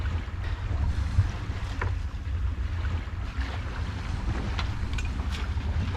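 A boat pushing through waves at sea, low rumbling water wash and buffeting wind noise with occasional splashes, close and continuous without speech.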